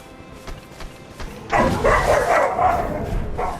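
Several dogs bark and yip excitedly in a burst that starts partway through, loud and close, over a quieter indoor background.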